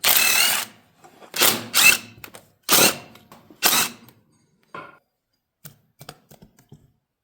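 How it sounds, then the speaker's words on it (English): Inspection cover being taken off the crankcase of a John Deere A tractor: a few loud metallic clanks and scrapes in quick succession, followed by softer scattered clicks and taps close by. "I just took the inspection cover off of the crankcase"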